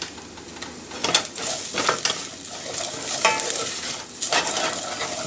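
Spices sizzle and fry in a hot pan for an Indian-style field mushroom curry, a steady close crackle punctuated by scraping stirs of a spoon against the pan.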